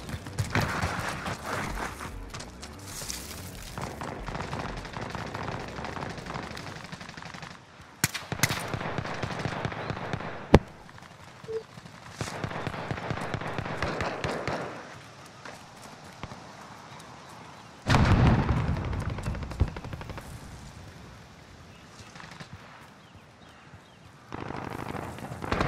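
Gunfire and combat noise in Call of Duty Modern Warfare, rapid popping bursts and crackling volleys that come and go over a steady background, with sharp cracks standing out.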